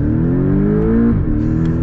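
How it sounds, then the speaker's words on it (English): A 2023 Porsche Boxster S engine revs strongly under acceleration, a loud, steady rising drone that climbs in pitch, breaks briefly at a gear change near the middle, then carries on from a lower note, close and continuous. "another acceleration"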